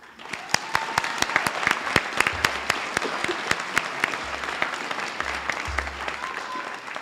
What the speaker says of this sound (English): Give these distinguished navigators graduating cum laude a round of applause.